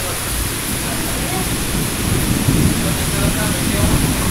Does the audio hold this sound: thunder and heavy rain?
yes